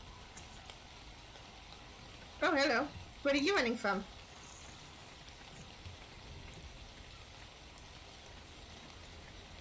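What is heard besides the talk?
rain in the video game ARK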